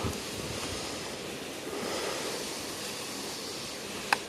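Water spraying onto garden plants, including orchids: a steady, soft hiss of running water throughout, with a single sharp click near the end.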